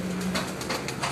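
A pigeon of the Rustam breed, held in hand, gives soft repeated cooing calls under steady background noise, fairly close, with no talking.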